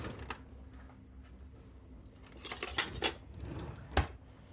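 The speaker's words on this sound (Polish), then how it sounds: "Teraz do tego wywaru wrzucam ziemniaki, marchewkę i kaszę." Potatoes, carrots and groats tipped into a pot of pork-knuckle broth for krupnik soup, giving a few clattering knocks and soft splashes against the pot, with a sharp clink near the end.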